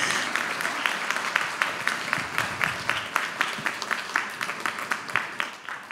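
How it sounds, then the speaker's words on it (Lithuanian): A live audience at a Lithuanian dialect heritage event applauds the Vilnius folk ensemble Laukis. Dense, even clapping fills the room with a steady rhythmic patter, close and moderately loud, continuing for several seconds. "Palydime jos aplodismentais."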